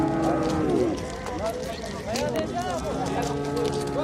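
At a crowded livestock market selling cows, calves and horses, a cow gives a couple of short moos amid hoof clatter and people talking nearby.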